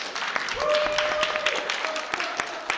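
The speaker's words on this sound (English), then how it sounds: "clap it up like you feel some kind of way" A room full of people claps in scattered, uneven applause, with a cheer or voice rising briefly over the clapping.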